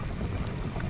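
Light night drizzle patters steadily during a ride home, a soft continuous hiss of fine raindrops with no talking over it.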